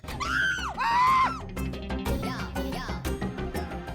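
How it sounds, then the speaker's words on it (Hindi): A woman in a Hindi TV comedy scene lets out two sharp, high-pitched screams in quick succession, loud and close, followed by further rough vocal outbursts. "आप चिल्लाई इसलिए हम भी चिल्ला दिए, आप क्यों चिल्लाई?"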